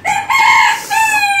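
A young rooster gives a short, close crow in two rising and falling parts, loud and alone, lasting little more than a second.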